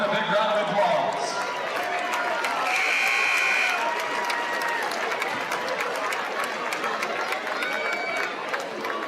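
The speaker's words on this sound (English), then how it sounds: "Let's give these ladies and gentlemen a big round of applause." A large indoor crowd at a college basketball game applauds and cheers, a broad wash of clapping and voices that swells early and then settles, with an announcer's voice over it.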